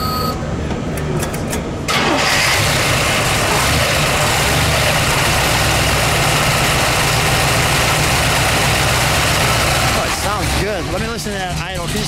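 A 1969 Chevrolet Camaro 427 with a four-speed fires up after a brief pause, then settles into a loud, steady, lumpy V8 idle that runs close by. Voices talk over it near the end.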